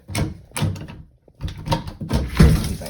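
An office building's outside door leading to the steps down to the car gets worked open, with several close knocks, rattles and handle clunks in uneven bursts and a short pause partway through.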